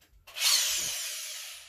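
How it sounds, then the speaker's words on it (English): A short burst of a power drill spinning up and biting into wood, a bright whirring that fades gradually over about a second. "I got to drill some holes."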